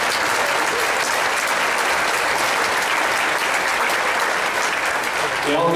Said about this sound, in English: give a round of applause for all of you